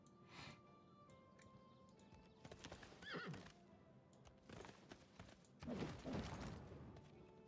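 Horses in the Civilization 6 video game neigh and whinny over clopping hooves, several whinnies with snorts and hoofbeats at a moderate distance, quiet and without talk.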